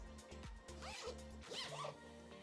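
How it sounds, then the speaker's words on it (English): A zipper runs along a baby stroller canopy in toddler seat mode, two quick close zips with a short pause between, clear and crisp over a low steady hum. "Now I'll zip it up"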